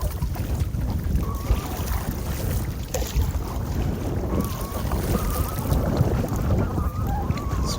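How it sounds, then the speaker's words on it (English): Wind gusting against a microphone on a kayak during a solo fishing trip on open water, a steady rough rumble and buffeting that persists loudly throughout with no talk over it. "So you guys might be hearing the wind a lot"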